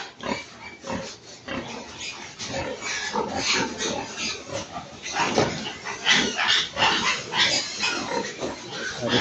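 Pigs squeal and grunt loudly and continuously aboard a livestock truck, a dense, agitated chorus of overlapping cries that keeps going without a break.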